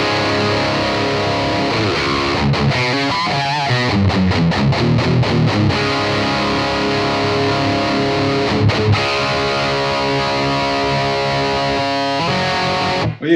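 Heavily distorted electric guitar through an EVH 5150 Iconic amp, loud and close, playing sustained chords with bursts of fast palm-muted chugging and brief stops, alone without talk.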